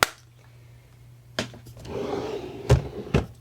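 A makeup storage drawer for blush, bronzer and highlighter is handled: a sharp knock, then a soft sliding rumble and a couple of firm thuds as the drawer moves, all close by.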